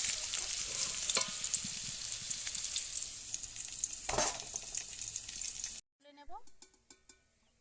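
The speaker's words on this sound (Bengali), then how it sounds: "দেখো হালকা করে ভেজে নেব খুব একটা ভাজবো না" Vegetables, cabbage for a curry, lightly frying in a pan with a steady bright sizzle and occasional stirring scrapes for about six seconds, then the sizzle cuts off, leaving a few quieter clinks and faint sounds.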